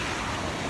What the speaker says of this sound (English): This is a powerful river.